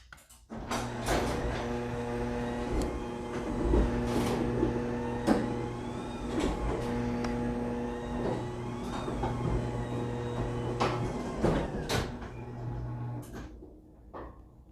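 A large electric hurricane garage door's motorized mechanism hums and whirs steadily for over ten seconds while opening, with occasional clanks and rattles, then winds down to quiet.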